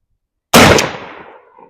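A single loud shotgun blast from a 10 gauge H&R with a 23-inch full-choke barrel firing Federal 2-ounce 00 buckshot, a sharp close report followed by a decaying echo, with no talking.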